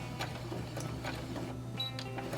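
A sewing machine makes a couple of backstitches at the end of a seam, a soft, close mechanical whirr with light rhythmic ticking over a low hum.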